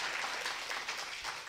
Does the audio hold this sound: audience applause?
yes